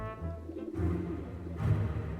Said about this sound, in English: Meet our pigeon spy